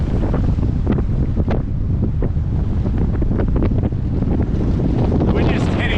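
Strong gusting wind roars across the microphone aboard a 16-foot trailer sailer running downwind in about 37 knots, with water rushing and splashing against the hull in a loud, continuous wash.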